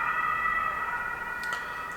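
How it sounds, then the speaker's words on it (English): An ambulance siren sounds on a busy street, a steady high tone held at moderate distance for two seconds with no voices over it. "Somebody needs the ambulance."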